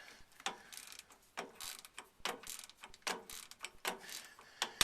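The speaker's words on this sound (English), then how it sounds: "Now I'm going to just tighten the screw with ratchet." A ratchet wrench tightens the screw on a tie rod tool during tie rod replacement on a GM square body truck, giving a series of quick, close clicking bursts in an irregular rhythm with short pauses between strokes.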